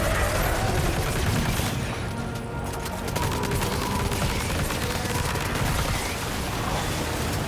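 Sustained gunfire in the Death Stranding 2 video game, dense continuous shots and booms filling the whole stretch at steady loudness with a brief dip near the middle, no voices.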